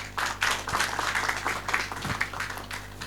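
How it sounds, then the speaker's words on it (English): An audience at a World Energy Day conference claps after a presentation, a steady patter of applause at moderate distance with no talking over it. "I think he deserves a bigger hand clap."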